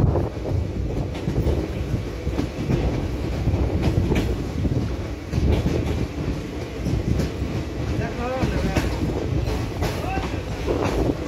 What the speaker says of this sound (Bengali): আর ট্রেন ছেড়ে দিয়েছে